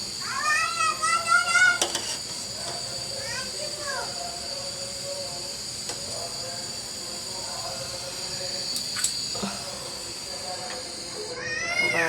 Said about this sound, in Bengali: ভাতে বলক চলে